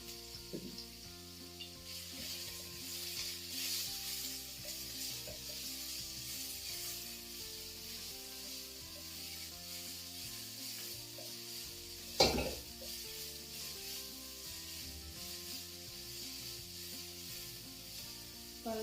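Capsicum and chicken fry in a pan, giving a steady sizzle and hiss of hot oil for the whole stretch, with occasional scraping stirs and one sharp clatter partway through, and no talking.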